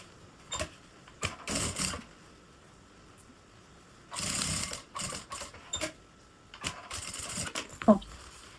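A sewing machine stitches bias binding onto a fabric pouch in several short whirring bursts separated by pauses. The bursts are close and moderately loud, and no one speaks.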